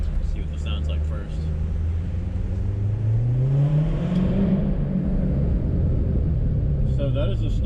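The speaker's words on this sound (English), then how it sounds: "So that is the stock exhaust in track mode." Stock exhaust on a Corvette Z06 in track mode, revving loudly and climbing in pitch before settling, a continuous close-up engine roar with a brief lull at the start.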